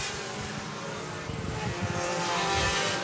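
Race cars at Seekonk Speedway during a Sport 4 race, a steady distant engine roar that swells slightly toward the end, heard without talk.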